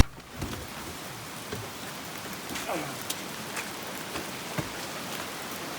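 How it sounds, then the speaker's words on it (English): Heavy rain falling at a riverside campsite, a steady hiss of drops with scattered louder patters and taps close by, continuous and without talk. "It's raining a lot right now."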